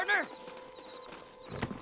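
A horse in the video game Red Dead Redemption gives a short whinny, then soft hoofbeats clop along quietly, with a voice talking over them.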